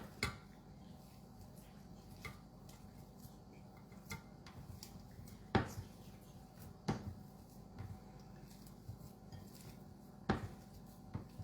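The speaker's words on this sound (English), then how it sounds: "Again, we give it one quick stir." A spoon stirs a cheese mixture in a bowl, with scattered sharp clinks and scrapes against the bowl, a few louder knocks standing out from a quiet kitchen background.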